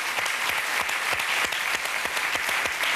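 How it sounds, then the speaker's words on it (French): A studio audience on a French TV show applauds a Québec circus troupe, sharp, rhythmic clapping that is steady and fairly close, with no voices over it. "On les applaudit encore longuement."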